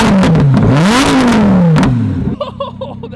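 Custom Lamborghini revving hard nearby, its loud exhaust sweeping up and down in two or three sharp blips before settling into a rumbling idle.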